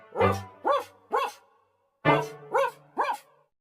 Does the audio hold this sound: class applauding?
no